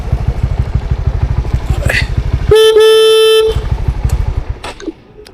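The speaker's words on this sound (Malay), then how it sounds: "Biasalah kita horn dulu" A motorcycle horn gives one steady, loud honk lasting about a second on arrival at a delivery stop, set between stretches of the idling engine's rapid, even chug close to the microphone.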